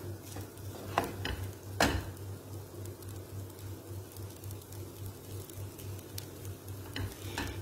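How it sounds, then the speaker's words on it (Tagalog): Curry paste being stirred into rice in a pan for green curry rice, a steady scrape and stir with a few sharper clinks under a constant low hum, no talking. "Halu-haluin lang. Hanggang, yung paste is madikit dun sa rice lahat."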